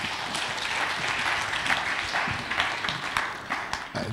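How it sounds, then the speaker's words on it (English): A church congregation applauds during a Sunday service, steady overlapping clapping from many hands that carries on evenly for several seconds at a moderate distance. "all praise, applause to God."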